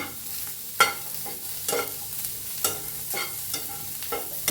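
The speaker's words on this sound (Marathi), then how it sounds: "आता कांदा भाजून घेऊया" Onion, ginger and garlic fry in oil with a continuous sizzle, punctuated every second or so by sharp spoon stirs scraping the pan, close and clear without speech.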